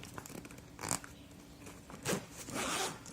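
A zipper on a portable unit's carry bag is pulled open in a few short, close rasping strokes spaced across a quiet room.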